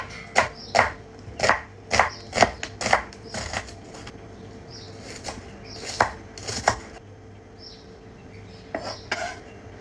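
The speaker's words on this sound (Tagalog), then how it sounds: "Nang makapaghiwa nga ako ng kamatis at sibuyas" Tomatoes and onions being chopped, with a fast run of crisp, close knife strikes at first, a short pause, then a few more scattered chops and some fainter knocks.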